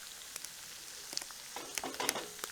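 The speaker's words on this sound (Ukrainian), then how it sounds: "Перемішуємо все разом і смажимо кілька хвилин до м'якості овочів." Onion and carrot for goulash fry in a pan, a faint, quiet sizzle with scattered soft crackles and pops, no voices.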